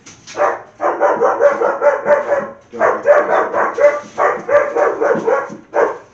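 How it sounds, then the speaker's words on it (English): Dog barking excitedly at a delivery driver, rapid close-up bursts of loud barks in a fast rhythm, broken by a couple of brief pauses and continuing to the end. "dog is going crazy."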